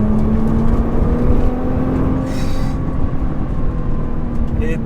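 A Subaru BRZ accelerates hard up an off-ramp, its engine a loud, steady roar with a rising tonal whine, road and wind noise dense throughout.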